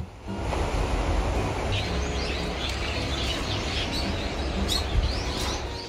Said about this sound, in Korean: 새가 수백 마리 사는 것 같은 소리가 들려오는